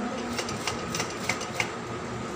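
A sewing machine stitches a zipper in a steady, close mechanical run, its needle ticking in a quick regular rhythm with a few sharper clicks, no talk over it.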